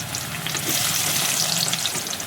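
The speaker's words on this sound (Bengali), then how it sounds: "তেলটা গরম হয়ে গেলে পেঁয়াজগুলোকে এতে দিয়ে দিলাম।" Chopped onions frying in hot oil in a kadai for Kolkata-style biryani, a steady dense sizzle with crackling bubbles that stays loud and continuous, with no talking.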